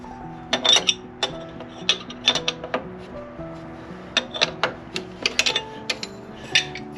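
Top nut being tightened onto the coilover shaft of a 10th-gen Honda Civic Si with Silvers-NA double-adjustable coilovers and a thrust bearing, heard as a string of sharp metallic clicks and ratcheting ticks in irregular bursts, close and fairly quiet.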